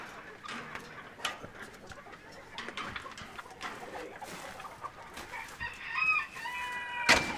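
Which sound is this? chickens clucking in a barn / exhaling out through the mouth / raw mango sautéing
chickens clucking in a barn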